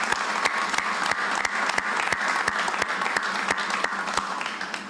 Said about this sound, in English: Please give them a thunderous round of applause as well.